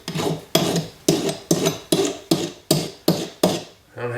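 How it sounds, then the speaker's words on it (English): A very coarse rasp is drawn across sterling silver in nine even strokes, each a gritty, scraping swipe that starts sharply and fades, repeating in a steady rhythm close up. "take this rasp. I call it a rasp, I think it is a rasp. It's a very coarse file."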